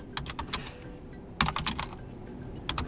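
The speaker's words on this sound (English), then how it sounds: "right now we have to type in pgAdmin on Linux inside the browser" Rapid bursts of keystrokes on a computer keyboard, crisp and close, coming in short clusters separated by brief pauses while a command is entered on a Linux machine.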